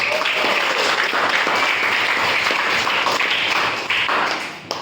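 Audience applause at a school guidance counselling talk on recognising personal potential, a dense, steady wash of many hands clapping that holds loud and even for about five seconds before tapering at the end.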